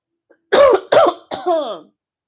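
Three harsh coughs in quick succession, close and loud, the last one a bit longer and raspier.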